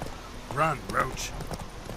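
Roach the horse in The Witcher 3 clops along in a short run of hoofbeats, several quick thuds at moderate distance, while game dialogue plays over them.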